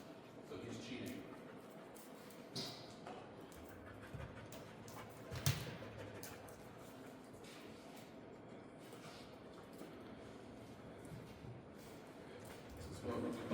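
A police K9 named Rascal pants steadily while searching around a vehicle at a county sheriff's department, close to the microphone, with a sharp bump partway through and background noise throughout.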